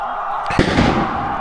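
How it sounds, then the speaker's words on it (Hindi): Firecrackers and fireworks go off during a local cricket final. One sharp, loud bang bursts out amid a crowd and commentary backdrop, followed by rumbling crackle. "पटाखे फोड़े जा रहे हैं, आतिशबाजियां शुरू हुई"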